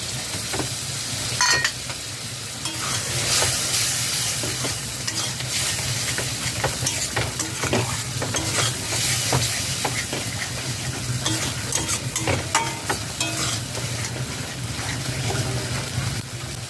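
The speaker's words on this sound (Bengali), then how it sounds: "সর্ষে দিয়ে দু মিনিট নাড়াচাড়া করে নিয়েছি মশলা থেকে তেল ছেড়ে দিয়েছি" Mustard-poppy seed paste masala fries in oil for a fish mustard curry. A continuous close sizzle runs beneath frequent spatula stirring and scraping, with occasional sharper crackles and no speech.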